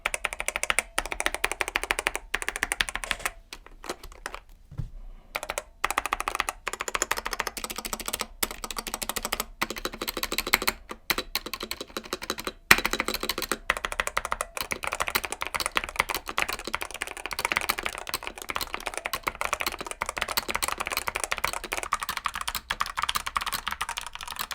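Continuous fast typing on a Womier WK61 mechanical keyboard with stock Otemu red switches and foam and tape mods, close and clear, a dense stream of key presses with a brief pause near the middle.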